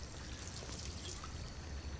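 Water being scrubbed in the video game Detroit: Become Human, a steady trickling, splashing wash that runs close and continuous for the whole stretch.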